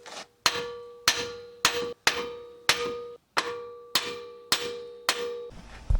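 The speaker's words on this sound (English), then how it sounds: "you pretty much gotta just beat the crap out of this with a hammer" A hammer strikes metal on a Jeep about ten times in a steady rhythm, each blow a loud ringing clang that decays before the next hit.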